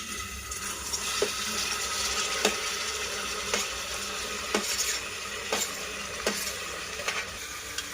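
Tomatoes being stirred into golden-brown fried onions in a pan for tomato rice, with a soft steady sizzle and regular scrapes and clinks of a spoon against the pan, close and without talk.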